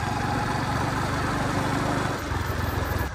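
A motorbike engine runs steadily at a loud, close, even idle-like rumble, the low chugging holding with no break throughout and no voices.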